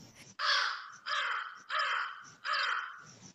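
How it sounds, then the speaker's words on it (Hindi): A crow caws four times in a slow, even sequence, each call harsh, drawn out and loud, with short quiet gaps between them and no other sounds around. "वे कांव कांव करते हुए झपट्टे"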